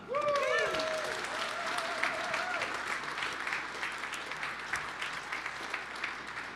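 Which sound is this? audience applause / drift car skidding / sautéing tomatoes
audience applause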